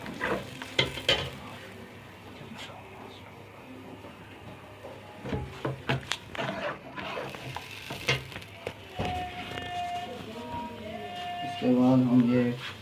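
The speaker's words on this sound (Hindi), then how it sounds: "हम अदरक लहसुन और हरी मिर्चों का पेस्ट डालेंगे। तो थोड़ा सा भूनेंगे।" Ginger, garlic and green chili paste frying in a pot, with a soft sizzle under intermittent scraping and stirring strokes, a few clatters, and a voice talking at times.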